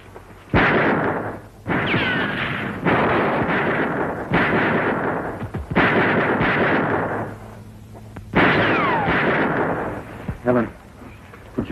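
Gunshots in a gunfight from a 1954 western, sounding as repeated loud bursts and blasts across the clip with gaps between them, mixed with ambient noise and a background hum.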